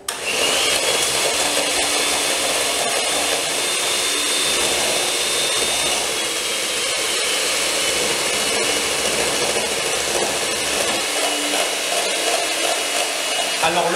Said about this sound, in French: Alors le batteur en position 1 ou position 2, c'est pas la peine de mettre à la vitesse maximum.